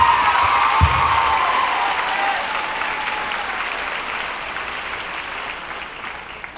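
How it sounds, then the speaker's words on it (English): A crowd applauds at a 2017 homecoming ceremony, dense, even clapping with a few cheers, a brief thump near the start, then gradually tapering off. "Everyone give them a round of applause."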